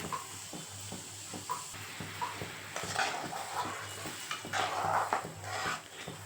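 A spoon scrapes and stirs through a pot of simmering pepper kuzhambu, with soft bubbling hiss and occasional clinks of metal on metal.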